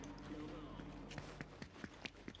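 Footsteps in the Fortnite video game, a series of sharp irregular taps arriving in quick succession, with a constant background hum under them.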